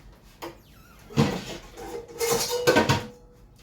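Clanking and scraping of a metal wok being handled in a kitchen, a few sharp knocks then a cluster of rattling metallic hits.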